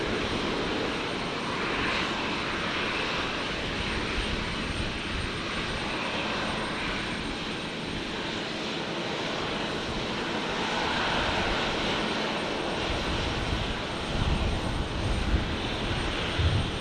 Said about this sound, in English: Virgin 469 arriving from Perth. This is a 73700.